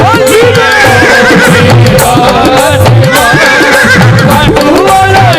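A horse neighs loudly and repeatedly, with high whinnies over a dense musical backing with rhythmic percussion and hoof-like clip-clop.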